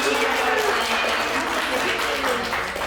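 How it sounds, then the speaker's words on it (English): Applause fills the room at a women's celebration event with a guest speaker panel, steady crowd clapping mixed with voices and cheers throughout. "round of applause to Joanne for holding it down"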